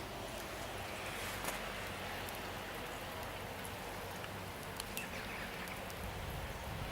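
Steady rain falls outdoors after days of downpour, a soft continuous hiss of drops on surfaces with occasional louder splatters, even and fairly faint throughout with no voices.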